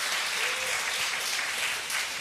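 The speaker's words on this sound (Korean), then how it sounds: "박수 한번 쳐주세요" Steady, dense applause from a church congregation during a Korean sermon, a continuous even wash of many hands clapping at moderate volume with no speech over it.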